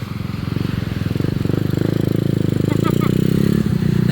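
A dirt bike riding along a beach, its engine a loud steady buzzing drone that holds fairly constant and close, with a brief rattle partway through.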